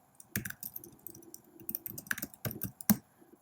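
Fingers type an email address on a computer keyboard, close and crisp, an uneven run of individual key clicks and taps with short pauses between bursts.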